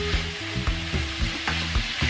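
Lumpia filling with scallions cooks in a pan, sizzling and frying steadily while being stirred in quick rhythmic strokes, close and alone.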